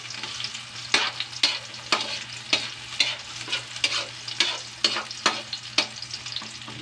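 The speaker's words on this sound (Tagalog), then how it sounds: "Atin lang gisahin ng maayos ang ating mga ingredients." Ingredients sautéing in a pan while ham, carrots and potatoes are cooked, a steady sizzle broken by regular loud scraping stirs roughly every half second to second, close and with no talk.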